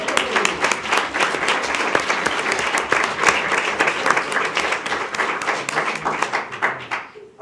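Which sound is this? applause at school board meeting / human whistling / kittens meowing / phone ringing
applause at school board meeting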